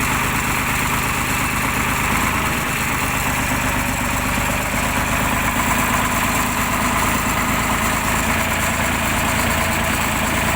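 A T-150 crawler tractor's heavy diesel engine idles steadily with its hydraulics working, a loud, continuous low rumble and vibration with no pauses or talk.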